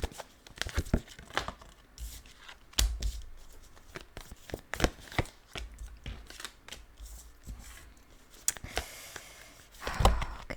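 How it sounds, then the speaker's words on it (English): Tarot cards laid out one by one during a Leo reading, producing sharp papery snaps, slides and crinkles in an irregular rhythm, close and fairly quiet, with a denser cluster of card handling near the end. "let me just lay out the cards"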